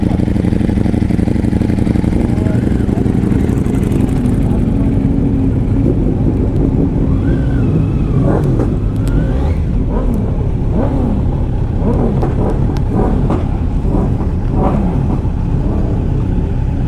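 A Kawasaki Z900 motorcycle rides on a road, its engine a loud continuous rumble with wind noise, revs rising and falling in waves through the middle and later stretch.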